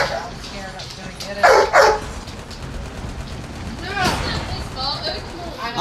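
A video game attack dog in Call of Duty Mobile barks in short bursts, a couple of sharp barks early and a whining yelp later, mixed with game effects and busy background noise.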